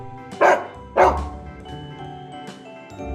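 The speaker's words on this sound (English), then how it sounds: "D is for dog." A dog gives two sharp, loud barks in quick succession over a cheerful children's song backing, then the music carries on alone.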